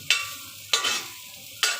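Ginger hits hot cooking oil in a heated pan, giving three sharp sizzling bursts that each fade into a steady hiss, loud and close.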